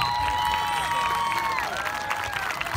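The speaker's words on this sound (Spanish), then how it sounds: "A ver, Carlos, aplausos." A festival crowd at a Latino festival in Plymouth, Indiana claps and cheers steadily throughout after a Battle of Puebla reenactment, with a high whistle-like tone sliding over the noisy applause.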